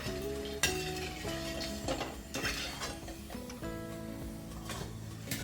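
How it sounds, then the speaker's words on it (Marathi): Asafoetida fries in oil with a steady sizzle as a spoon stirs and clinks against the pan, with a sustained tonal hum running underneath. "हिंग तळताना गॅस कमी करायचा आहे म्हणजे छान तळला जाईल"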